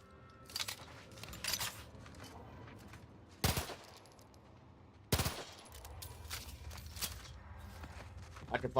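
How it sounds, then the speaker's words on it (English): A machine pistol in a video game fires in a few short, sharp bursts spread across the clip, with quieter footsteps and crunching movement sounds between them. "Machine pistol."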